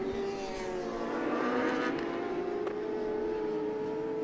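Superbike racing motorcycles pass on a circuit at St-Eustache, a sustained engine whine building and fading as the leaders go by, moderately loud at a distance.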